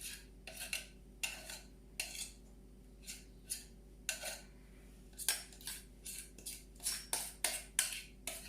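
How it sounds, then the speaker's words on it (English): Cream cheese folded into a bowl for a chocolate orange cheesecake, heard as a run of soft, quick utensil scrapes and taps against the bowl, repeating every half second or so at close range, with no talking. "So just into your bowl now, put the cream cheese, and we're going to fold that in."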